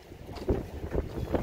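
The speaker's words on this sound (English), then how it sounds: "it's kind of windy out today" Wind gusts buffet the microphone in low rumbling bursts, steady and close, with no talking.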